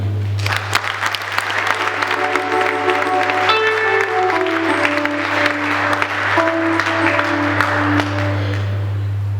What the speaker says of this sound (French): Nous applaudissons la Vierge Marie.